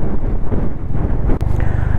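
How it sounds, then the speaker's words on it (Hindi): Strong monsoon wind roars steadily over a Honda Highness CB350 motorcycle on a slippery sloped road near Lonavala, a loud continuous low rumble and buffeting throughout, with no talk. "इतनी ज़ोर से हवा चल रही है यहाँ पे"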